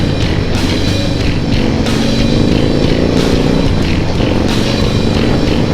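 A Harley-Davidson Dyna Street Bob motorcycle with raised handlebars, a windshield and a fairing, rumbling steadily while ridden, its engine drone loud and constant under heavy wind noise.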